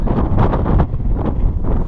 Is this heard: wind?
yes